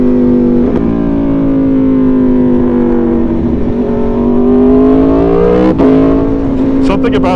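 An Aprilia Tuono V4 motorcycle with a 65-degree V4 engine pulls hard on the road, its loud, rich growl climbing steadily in pitch with a brief break near the end, heard close over wind.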